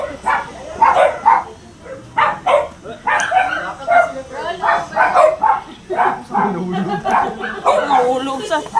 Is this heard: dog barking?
yes